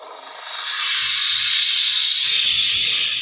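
A Polti Vaporetto SV440 Double steam cleaner hisses out steam, rising quickly into a loud, continuous close-up rush, with faint low clunks underneath.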